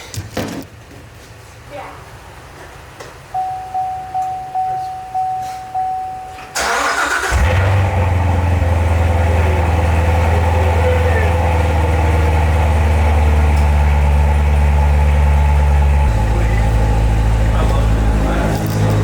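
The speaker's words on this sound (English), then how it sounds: "we're gonna cold start the new Z06" Chevrolet Corvette Z06 cold-starting: a brief starter whir, then the engine catches with a loud roar and settles into a deep, rumbling high idle that drops lower near the end.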